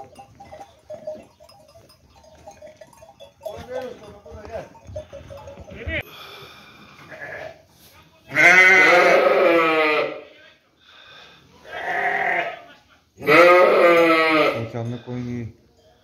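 Sheep for breeding stock bleat at a livestock sale pen, with several loud, close, wavering bleats arriving in separate bursts. Quieter shuffling and a voice fill the start.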